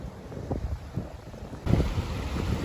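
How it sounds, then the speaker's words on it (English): Gusty wind at a Hawaii beach, buffeting the microphone in low rumbling bursts with a faint wash of surf behind, close and moderately loud. "Kind of windy."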